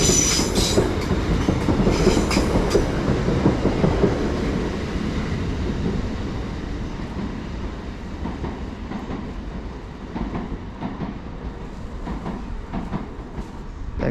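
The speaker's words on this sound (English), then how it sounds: "coming through now, we've got another Transpennine Express service heading to Liverpool Lime Street from Newcastle" TransPennine Express train 802 210 passing through Edge Hill toward Liverpool Lime Street: a loud, sustained rumble of wheels on rails with faint clickety-clack, slowly easing as it goes by, no voices.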